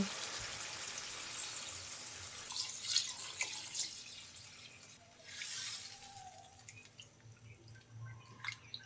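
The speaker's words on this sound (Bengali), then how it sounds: "নেড়ে চেড়ে সবজিটা ভালো করে কষিয়ে নিয়েছি ঝোলের পানি দিয়ে দেব" Water poured into a pan of sautéed mixed winter vegetables to make the gravy for a rohu fish curry, giving a steady, moderately loud watery rush and hiss with a few splashy bursts, and no talking.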